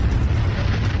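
A deep, rumbling explosion boom from an anime battle scene rolls on loud and sustained, a dense low roar that fills the whole moment without a clear single onset.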